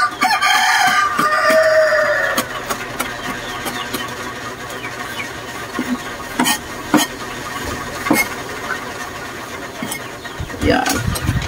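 Chickens cluck and a rooster crows amid farmyard noise, with an engine droning and scattered clatter and knocks.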